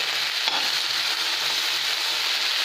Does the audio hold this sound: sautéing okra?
yes